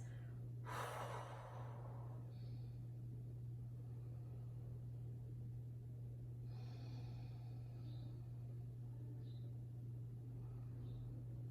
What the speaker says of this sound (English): So let's take a couple more breaths.